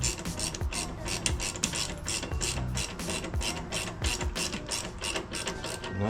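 A rear shock absorber screw being turned in by hand: a steady run of rapid ratcheting clicks, close and continuous, with no talk.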